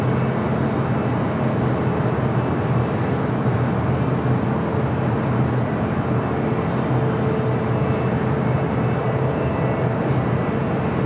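Jet airliner departing from LAX, a loud, steady, broadband engine roar that holds evenly throughout at close range.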